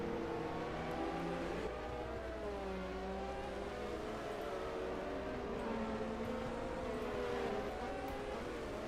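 Formula 1 race car engines, including a Ferrari, at the 1986 Portuguese Grand Prix, droning steadily with shifting whining pitch as the cars run at speed, fairly distant and continuous throughout.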